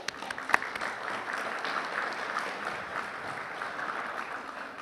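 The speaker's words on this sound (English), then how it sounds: "let's give them a round of applause" A modest round of applause from an audience at a legislative gathering, steady clapping of moderate size heard from a distance, holding at a constant level for a few seconds.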